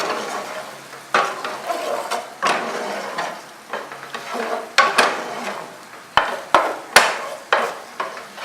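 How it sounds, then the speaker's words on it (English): Pork slow cooking under a sauce in a pan makes bursts of sizzling and bubbling, broken by several sharp utensil knocks against the cookware toward the end, close and fairly loud. "the pork is still like slow cooking under this sauce"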